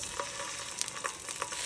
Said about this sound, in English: frying 2 pounds of sausage links